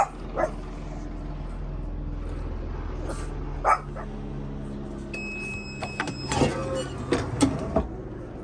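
Dogs bark and yip in short bursts at a distance, scattered over a low background hum, with a brief higher whine near the end.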